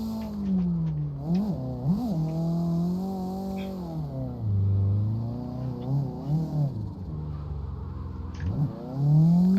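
A car engine in the CarX Drift Online driving game revs in sixth gear, its pitch rising and falling repeatedly as throttle comes on and off, with faint tire chirps, steady and close.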